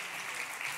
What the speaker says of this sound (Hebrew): אז מחיאות כפיים לכם